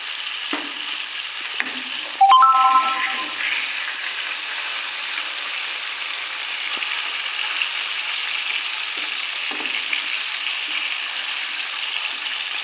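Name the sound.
cauliflower frying in oil in a wok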